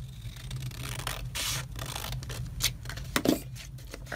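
Scissors cutting through trimmed paper book pages, a series of close, crisp snips and scraping strokes with short pauses between them.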